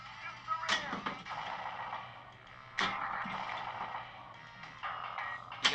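A TMNT pinball machine's shooter lane firing the ball, two sharp mechanical thumps a couple of seconds apart, each followed by the ringing, busy electronic sounds of the table at close range.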